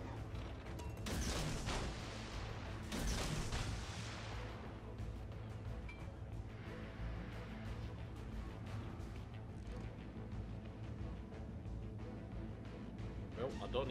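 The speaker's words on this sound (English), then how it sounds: "First salvo properly out. Nearly reloaded for the next salvo." A warship's main guns fire a heavy booming salvo in World of Warships, a longjiang destroyer battle against a Yamato, with roaring blasts early on that fade into a rumbling, mechanical game soundscape.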